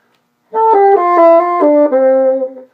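Bassoon plays a passage from Weissenborn etude no. 21 without the trill, a short legato phrase of stepping notes, close and clear, alone with no talk.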